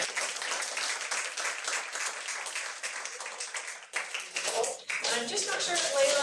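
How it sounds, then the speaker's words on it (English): An audience applauds award recipients, a dense patter of clapping throughout with a short dip near the middle, while voices talk over it. "another round of applause for"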